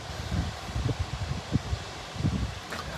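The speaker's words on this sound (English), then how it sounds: "we're seeing some pretty good gusts here." Strong wind gusts during Hurricane Ian on the Charleston waterfront swell and fade in uneven bursts, buffeting the microphone over a low rushing background.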